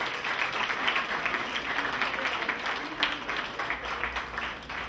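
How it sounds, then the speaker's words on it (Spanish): An audience applauds steadily throughout in celebration of a lottery's 50th anniversary, the dense clapping continuous and moderately loud with no pause. "Voy a pedirles a ustedes que nos demos un fuerte aplauso por esos 50 años"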